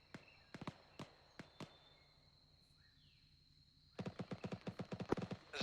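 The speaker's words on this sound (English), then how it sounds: "I'm hearing a lot of gunfire from 1-2" Gunfire rings out in the military game Arma 3: scattered single shots, then a rapid run of automatic bursts, sharp and moderately distant, over a steady tonal hum.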